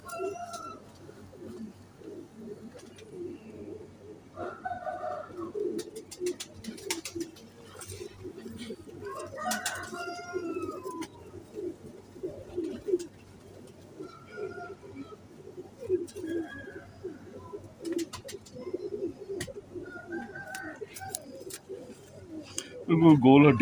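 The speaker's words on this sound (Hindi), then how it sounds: "ये दोस्तों कबूतर हैं बच्चे उड़ाने वाले।" Teddy pigeons coo repeatedly in soft, throaty phrases, with flapping and shuffling sounds and scattered clicks throughout.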